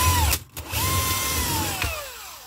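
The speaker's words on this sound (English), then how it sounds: "Take a pilot hole through just to double check." Close power drill boring a pilot hole through a motorhome floor, its whine gliding down in pitch as it cuts, with a brief stop and restart partway through.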